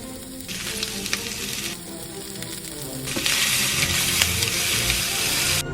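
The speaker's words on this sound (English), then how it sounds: "Sauté the shrimp in a pan with a tablespoon of oil over medium-high heat for a minute" Shrimp and minced garlic sizzle in a tablespoon of oil in a pan over medium-high heat, a close, steady frying hiss that surges and eases as the pan is stirred, growing louder toward the end.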